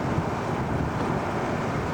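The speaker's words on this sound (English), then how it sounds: "On the hills, it's kind of windy." Strong wind gusts on hills in Alaska buffet the microphone in a continuous, roaring rush with no pauses.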